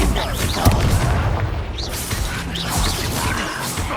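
In the Hogwarts Legacy video game, a Bombarda explosion spell erupts in a loud, dense boom amid chaotic battle crashes and clatter, with voices shouting over the din.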